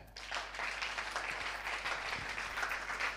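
A congregation applauding together at a church session, a steady wash of many hands clapping at moderate volume that holds for a few seconds.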